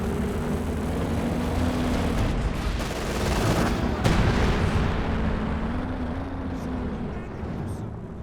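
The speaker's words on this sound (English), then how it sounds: "Heavy mortar versus Ostheer mortar." Heavy mortar and Ostheer mortar fire in Company of Heroes 2, a steady barrage of booms and thuds from a large-scale battle with one sharper blast standing out partway through, the ambience continuous and dense from start to finish.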